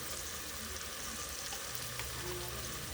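Ginger garlic paste sizzles steadily in hot oil in a pan for a Telugu-style egg and dal curry, a dense, even frying hiss with nothing else over it.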